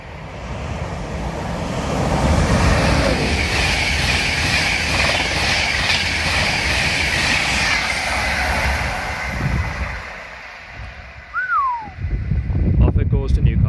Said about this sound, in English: So there's another Virgin Trains East Coast on the way.